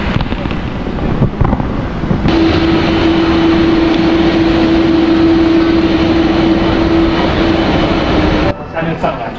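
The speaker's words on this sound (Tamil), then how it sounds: "ஃப்ளைட்டு டேக் ஆஃப் ஆகிறதுக்கு ரெடியாக நிற்கிது" Jet engine at Taoyuan International Airport spooling up as a plane waits to take off, a loud steady roar with a sustained whine, heard from an observation deck with wind noise and voices around.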